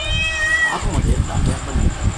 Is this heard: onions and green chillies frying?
no